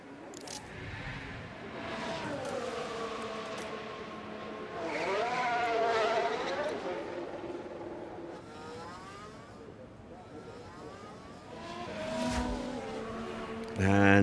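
A race car in F1 Manager 24 passes by, its engine whine rising and sweeping in pitch as it approaches and goes away, with a second car buzzing through later, moderately loud and alone.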